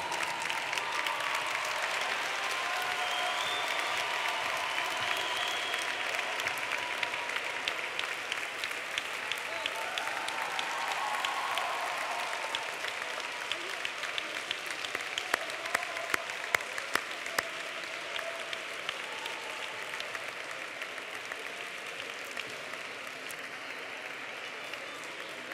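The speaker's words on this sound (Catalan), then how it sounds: "Un aplaudiment." Sustained applause from a crowd at a university graduation ceremony, a dense steady clatter of clapping that carries on for the whole stretch without fading much.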